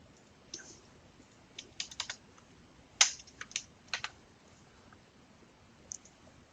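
Typing on a computer keyboard: scattered soft key clicks in short bursts, with a sharper tap near the middle, close and fairly quiet against a faint room background.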